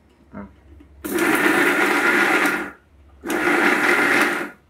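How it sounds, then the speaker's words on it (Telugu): A kitchen mixer grinder whirs through tomato chutney ingredients with tamarind, salt and coriander, Rayalaseema style, in two loud bursts of about a second and a half each, separated by a short pause and a small clunk. "ఇవన్నీ మిక్సీ కాడించుకోవాలి"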